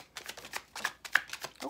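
A tarot card deck being shuffled by hand, soft quick riffling and flicking of cards, close and quiet with no talking.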